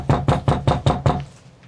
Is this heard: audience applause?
no